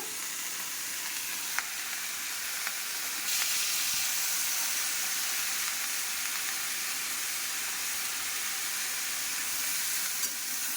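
Washed leafy greens and green chillies frying in a pan, a loud, continuous hiss and sizzle that swells slightly after a few seconds and holds steady, with a couple of faint clicks.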